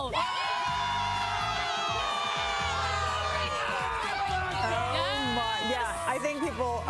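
A large parade crowd celebrating the Texas Rangers' championship cheers, whoops and shouts continuously, with a loud, steady roar of many voices and scattered high yells layered over one another.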